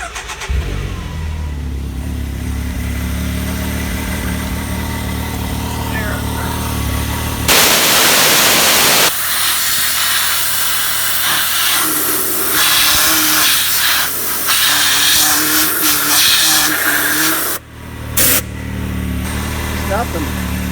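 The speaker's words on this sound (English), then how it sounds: "Let's go ahead and start it up and get the clutches spinning." A 2018 Can-Am Maverick X3 UTV starts up and runs with its clutches spinning, a loud close engine note with revving bursts; a voice talks over the start.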